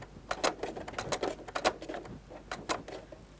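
Sewing machine running a straight stitch along a dress seam while attaching facing pieces, heard as a rapid rattling patter of needle strokes in short, uneven bursts, fairly close and alone without talk.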